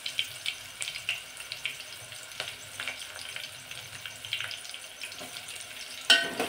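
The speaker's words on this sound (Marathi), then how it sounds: "आता हा कांदा व्यवस्थित परतून घ्यायचा आहे, छान असा सोनेरी रंग येईपर्यंत परतायचा आहे तेलामध्ये" Finely chopped onion fries in oil with spices for masala bhat, a steady close sizzle broken by light stirring scrapes and a sharper clatter near the end, with no voices.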